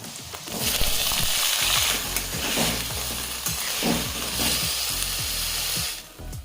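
Chopped green tomatoes drop into a hot pan with oil and slit green chillies, setting off a loud, sustained, close sizzle with occasional stirring scrapes, alone and without talk.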